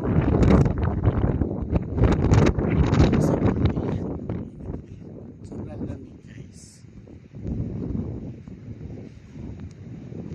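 Strong cold wind buffeting the microphone on Mt. Pulag, Luzon's highest peak at 2,928 m, a loud roaring rumble that eases midway and surges again, with people talking through it.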